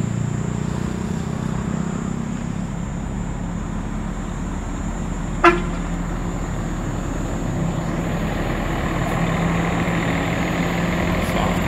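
Itapemirim intercity buses at a bus stop in Valadares, Minas Gerais: a loud, low diesel rumble idles and rolls past steadily, with one brief sharp knock midway and no clear horn.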